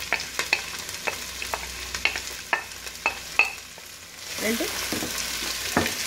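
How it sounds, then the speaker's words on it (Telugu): Onions and green chillies frying in a pan for Andhra style mutton paya curry, a steady close sizzle broken by sharp clinks of a spoon against the pan, with a brief murmur of speech. "గ్రీన్ చిల్లీ పచ్చికాయ ముక్కలు వేసుకొని ఉల్లిపాయ ముక్కల్ని కొంచెం దూరగా వేయించాలి."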